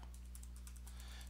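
Someone types a web address on a computer keyboard, the key clicks coming in a quick, fairly even run against a low background hum, with no talking.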